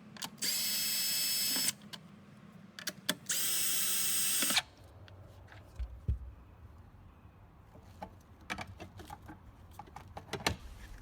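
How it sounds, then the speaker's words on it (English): Two long, loud bursts of a power drill whirring, each about a second or more, removing fasteners holding the ECU in a Porsche 981, followed by quieter clicks and handling noises. "Use a 10mm socket wrench or drill to remove these four fasteners that hold the ECU in place"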